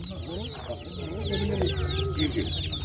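Chickens and roosters clucking close by at a poultry market, a busy, overlapping chorus, with a few higher rooster-like calls rising above a low background murmur.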